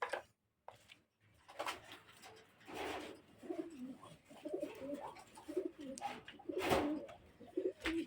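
A domestic pet pigeon coos softly and close by, giving several low, throaty calls in a quiet room, with a few faint clinks between them.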